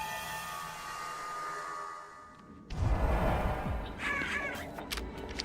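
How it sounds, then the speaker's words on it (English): Birds in Final Fantasy XIV caw loudly in the second half, several harsh calls over a steady game ambience with a low rumble. "It's a lot of birds."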